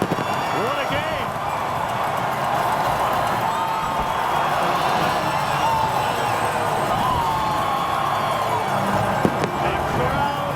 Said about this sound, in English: A crowd here in Regina that is in party mode.